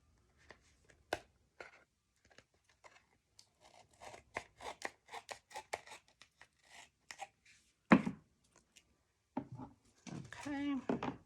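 Scissors snip and crunch through extra paper and card material while a floral album is trimmed, giving short scattered cuts and rustles close by under intermittent talk.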